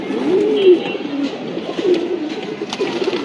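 Pigeons kept at a home loft coo in low, rolling phrases, several overlapping calls repeating steadily and close by with no talk.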